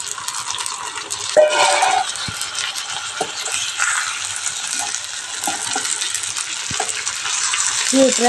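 Broad beans frying in a home-kitchen pan, with a steady hiss and sizzle broken by scraping and clinking as they are stirred, close and fairly loud, with a faint voice now and then.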